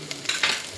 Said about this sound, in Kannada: ನಮ್ಮ ಸಾಂಬಾರು ಬಗಾರ ಹೊಡಿತೀನಿ